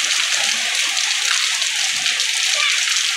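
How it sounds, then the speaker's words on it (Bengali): Rain pours on a hot summer morning at a house, with wind strong enough to bend a pomegranate tree. It makes a bright, continuous watery hiss with scattered drips and splashes, and no one speaks over it. "দেখুন কত সুন্দর বৃষ্টি হচ্ছে"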